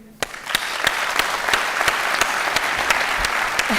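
Applause from the audience at an awards evening in the Meuse and Haute-Marne region of France, with loud sharp claps standing out over continuous crowd clapping.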